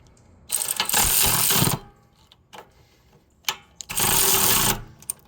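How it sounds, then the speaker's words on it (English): Two sustained bursts from an electric ratchet driving bolts on a Coleman Powermate PM 1500 generator, each about a second long, loud and close, with clicks and clunks between them. "I forgot I charge up my electric ratchet"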